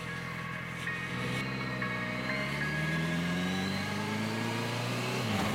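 A vehicle driving along the Corniche des Cévennes mountain road, picked up by a GoPro: steady engine hum with rising and falling pitch as it accelerates, alongside continuous road and wind noise, with no voices.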